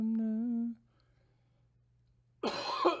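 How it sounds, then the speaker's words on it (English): A person's harsh morning hacking cough comes as one rough, loud burst after a brief hummed note and a stretch of near silence. "I don't know why every morning I have this like hacking cough"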